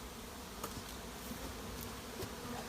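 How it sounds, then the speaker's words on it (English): Honeybees buzzing at an opened backyard hive, a queenless colony with laying workers: a steady, dense hum close by, with a few individual bees droning past. "you can see there's quite a lot of bees have come back"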